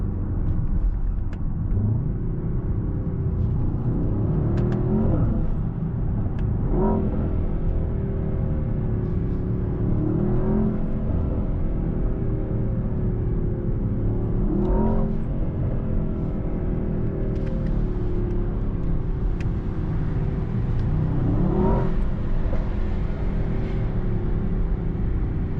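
A 2024 Mercedes-AMG S63 sedan with its V8 hybrid powertrain pulls hard under acceleration at night, a loud, steady engine drone with repeated rising surges of revs throughout, heard close from inside the cabin.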